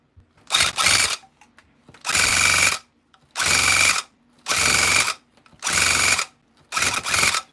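Electric tufting gun punching yarn into a Christmas rug, running in six loud, even bursts of about half a second each, separated by short pauses with no talk.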